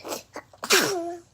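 A single sharp sneeze bursts out after a couple of short intakes of breath, close and loud, trailing off into a brief voiced tail.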